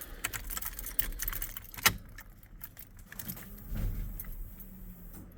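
A GM key jangles in a GM steering column and ignition lock fitted to a Jeep Comanche, producing a close metallic rattle with one sharp clink near the middle and a low background hum.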